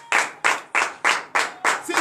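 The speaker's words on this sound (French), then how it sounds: "Donnez l'acclamation à notre Seigneur Jésus." A church congregation at a Monday morning prayer service claps in rhythm, six sharp bursts of clapping at an even, regular beat, loud and close.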